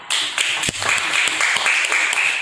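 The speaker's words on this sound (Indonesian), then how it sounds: "kita kasih tepuk tangan untuk kelompok 3" A school class claps for a student group: a short burst of many hands clapping, loud and close, running steadily for about two seconds with no talking.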